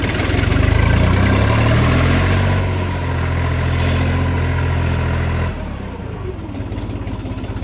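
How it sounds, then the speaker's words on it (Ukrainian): A HORST G244DXU compact tractor engine with four main gears, loud and close, revving high then settling to a lower steady idle for the rest of the stretch. "Ого, це я вже газуюся."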